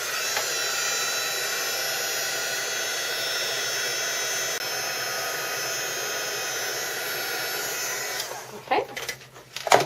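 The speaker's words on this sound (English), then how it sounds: "I'm going to use my heat gun to heat it." A heat gun blows hot air onto UTEE embossing powder, a loud, steady whooshing drone that runs for about eight seconds before cutting off and giving way to a few soft handling knocks and rustles.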